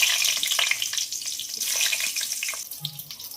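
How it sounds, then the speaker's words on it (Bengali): Eggplant pieces fry in hot oil in a wok, giving a steady, fairly loud hiss and sizzle that runs continuously, with no talking. "এবার বেগুনগুলো ভাজার জন্য দিয়ে দেবো।"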